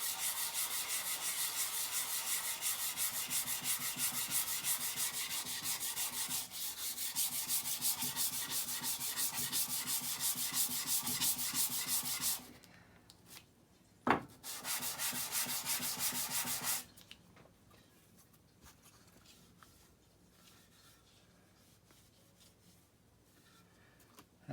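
A rusty Stanley rabbet plane rubbed with oiled abrasive grit, a steady close scrubbing back and forth for several seconds, then a short pause, one more burst and a quiet end.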